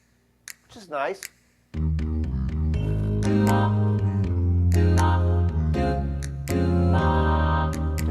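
Lowrey touchscreen home organ playing a doo-wop style pattern, warm sustained chords over a steady bass and rhythm accompaniment, fairly loud and continuous after a brief spoken remark at the start.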